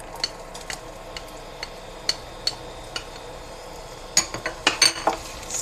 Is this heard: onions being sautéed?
yes